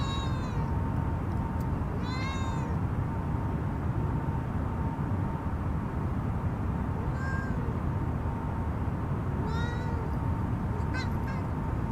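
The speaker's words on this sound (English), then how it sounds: "Cat." A cat meows several times at a moderate distance, drawn-out cries spaced apart over a steady low hum of cockpit and engine noise.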